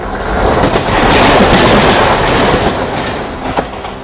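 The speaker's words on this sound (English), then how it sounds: "Is that a train, Dylan?" A train rolls past loudly and close on a railway track, a steady broadband roar with rhythmic wheel clatter and faint squeal.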